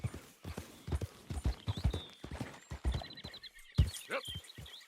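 Horse hooves clip-clop at a steady trotting rhythm in the video game Red Dead Redemption 2, with a few faint bird chirps and a brief snort over the close, evenly spaced hoofbeats.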